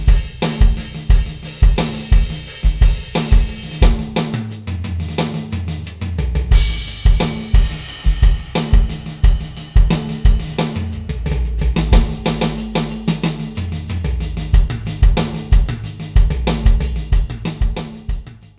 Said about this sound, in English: a really big sort of boomy sound with lots of ambience, some compressed room sounds